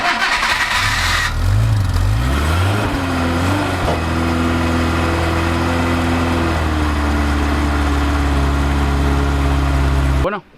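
After an engine swap, a van engine cranks briefly and catches on the first try. It revs up, then settles into a loud, steady idle close by before cutting off abruptly at the end.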